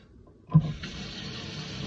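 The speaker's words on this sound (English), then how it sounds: "your water is running" A sink tap turns on with a short splash, then water runs in a steady hiss, close and alone.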